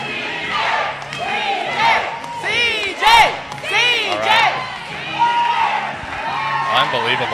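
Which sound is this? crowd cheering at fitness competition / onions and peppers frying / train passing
crowd cheering at fitness competition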